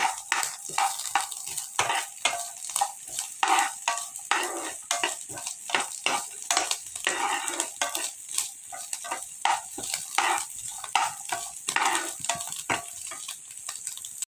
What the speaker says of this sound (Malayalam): അതൊന്ന് ഇളക്കി കൊടുക്കാം നാളികേരപ്പത്ത് നല്ല മുറുകി വരുന്ന വരെ ഇളക്കണം